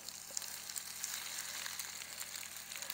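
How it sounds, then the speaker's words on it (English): Cornbread batter sizzles in a hot 10-inch cast iron skillet, a steady, close frying hiss with crackling pops throughout and no talk over it. "Can you hear that sizzle?"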